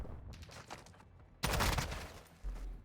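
Gunfire in a Call of Duty match crackles in quick bursts, with distant rattling shots first and then a louder, closer volley. No one speaks.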